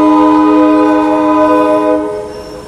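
A loud, sustained multi-tone Amtrak passenger train horn blares for about two seconds at Oakland Jack London Square, then cuts off, leaving a fading rumble.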